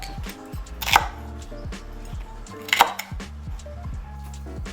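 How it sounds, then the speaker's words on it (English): A knife chopping celery, carrots, onion and garlic on a cutting board, a brisk run of evenly spaced, close, crisp chops with two louder knocks. "Let's start cutting up some celery, some carrots, some onion, and garlic."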